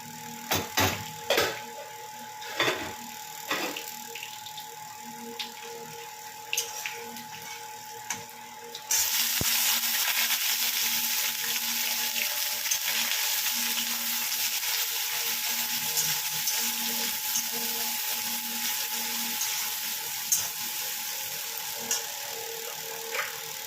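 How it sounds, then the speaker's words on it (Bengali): Okra frying in oil in a home kitchen pan gives a steady, close sizzle that swells midway and holds to the end, preceded by a few scattered clicks and light rustles. "এইদিকে করে নিয়েছি ভেন্ডি ভাজা"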